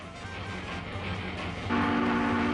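A real train rumbles past with a steady clatter, then its horn blares loudly and holds near the end, with no voices.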